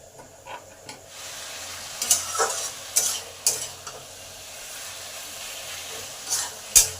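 Taro leaves stir-fried with spices in a pan over high heat, giving a quiet, steady sizzle broken by sharp scrapes and clinks of a spatula stirring at irregular moments.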